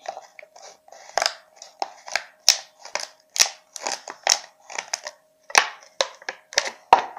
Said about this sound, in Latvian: Tagad griežam līdz šajienai